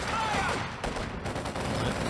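MG34 machine gun fire in the video game Company of Heroes 2, a steady, rattling burst of automatic shots mixed with battlefield noise, heard under a commentator's voice.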